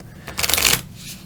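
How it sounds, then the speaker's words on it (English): Deck of cards from the board game Don't Go In There being shuffled: a single quick riffle, close and crisp, with no talk over it. "So I would shuffle the deck."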